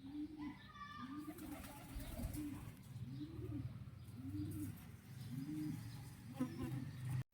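Large, colourful pedigree pigeons coo in a steady rhythm of about six deep, rolling calls, close by, with a few light chirps from other birds in the background.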